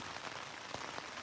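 Steady rain patters on a surface on a trail along the Continental Divide, a dense even hiss with a few slightly louder drops, close and continuous through the short stretch.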